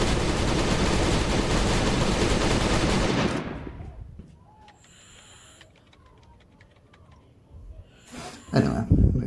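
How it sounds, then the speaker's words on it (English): Automated turrets in the Last Day on Earth video game fire a loud, dense stream of rapid shots for about three seconds, then stop. Quieter game sounds follow, and a short burst of noise closes the clip. "You can turn the turrets on real quick."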